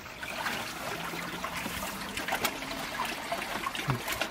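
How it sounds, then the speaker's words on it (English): Water trickles and dribbles steadily at a backyard koi pond with a filter system, a soft, continuous low-level flow with faint splashes, heard alone and fairly quiet. "Now drop water again."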